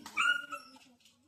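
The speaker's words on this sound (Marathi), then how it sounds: "याला जाम आहेत कुत्रे आमच्याकडं" A single dog gives a short, close whimpering yelp that trails off quickly.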